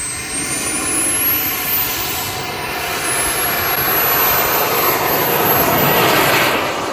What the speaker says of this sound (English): So James is gonna go with his jet car next.